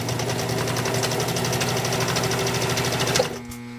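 A fully restored PFAFF 229 sewing machine stitches through two layers of 10 to 12 ounce genuine leather with a loud, steady, rapid mechanical chatter, close up, then it slows and stops near the end.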